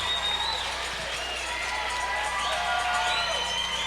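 Crowd at a peewee ice hockey game cheering after the home team scores the opening goal, a steady wash of cheers and clapping from a distance, heard without talk over it.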